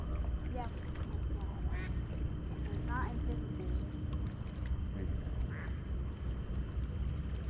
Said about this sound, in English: Oh, look at this duck. He flew so close to us.